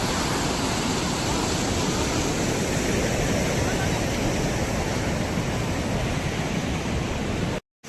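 Loud, steady rush of fast-flowing water, a dense broadband roar that continues unbroken at close range for nearly eight seconds before cutting off abruptly.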